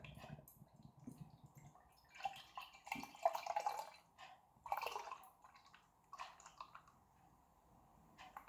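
Imperial Triple West Coast Pale Ale poured into a clean glass: intermittent splashing and fizzing glugs in bursts, fairly quiet and close, with no speech.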